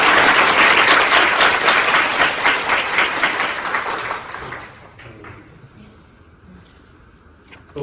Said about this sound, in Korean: 여러분 먼저 뜨거운 박수 부탁드리겠습니다